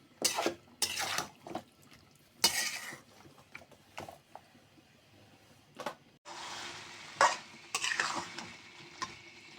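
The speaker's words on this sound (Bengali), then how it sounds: "দেখুন, সুন্দর করে কষিয়ে নিচ্ছি।" Broad bean seeds being sautéed and stirred in a pan, with scattered scraping clinks and brief sizzling bursts, then a steadier hiss near the end; no talking.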